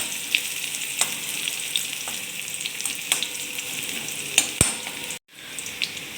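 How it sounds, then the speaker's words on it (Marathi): Garlic sizzling in hot oil in a pan, a steady bright crackle with occasional spoon taps as it is stirred, close and fairly loud, no talk. "लसणाचा हरकासा ब्राऊन कलर होईपर्यंत आपलं लसूण आहे तो परतून घ्यायचा आहे असं तेलामध्ये"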